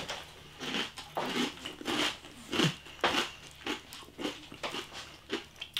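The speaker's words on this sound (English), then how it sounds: "And you hear that crunch." Smith's Scampi Fries, a lemon-and-fish flavoured bar snack, crunched close up in a steady run of crisp, crackly bites and chews with no talking.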